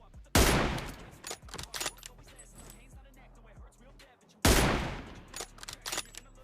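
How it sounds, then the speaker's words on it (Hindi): An M24 sniper rifle fires in an online shooter game, with two sharp, loud cracks about four seconds apart, each followed by ringing decay and scattered smaller in-game clicks and noises. "तो मैं कोशिश करता हूँ M24 चलाने की लेकिन यार सस्ती स्नाइपिंग"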